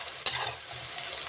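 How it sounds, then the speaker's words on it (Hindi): Onions fry in a pan for a restaurant-style mixed vegetable dish: one sharp utensil scrape, then a soft, even sizzle, heard close with no talking. "अभी मेरा प्याज थोड़ा सा भुन चुका है, थोड़ा सा और होने दूँ"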